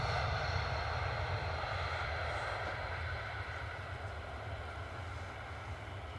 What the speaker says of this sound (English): Embraer 195E2, hot foot from Amsterdam